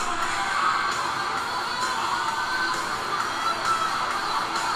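A huge audience at a 1991 concert in Moscow cheers in a steady, dense roar of voices and whoops that holds throughout.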